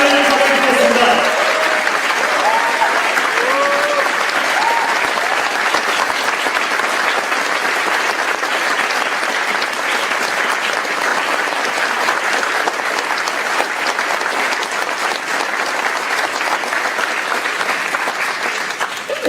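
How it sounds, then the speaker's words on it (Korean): A large audience of broadcasting colleagues applauds warmly to celebrate a fellow journalist's return, with sustained, even clapping from a crowd close by, loud and continuous, and a voice briefly heard over the start. "온 마음을 담아 이용마 선배의 복귀를 축하하는 박수를 한번 치겠습니다"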